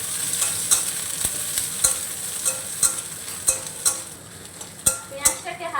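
Chopped onion with dried red chilli drops into hot oil, giving a bright continuous sizzle punctuated by regular metal spatula scrapes and taps against the pan, close and clear.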